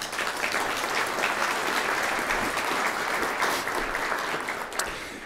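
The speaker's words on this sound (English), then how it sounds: "let's give them a round of applause" Steady applause from an audience fills the whole stretch, dense clapping at an even level without breaks.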